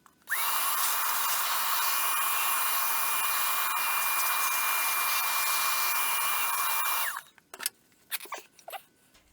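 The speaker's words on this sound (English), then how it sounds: "I'm going to vacuum out all of the insect activity that's happening inside here" A vacuum cleaner runs in one loud, steady whine, sucking insect debris out of a retro Studebaker cassette/CD player, then shuts off abruptly, followed by scattered clunks and handling noises.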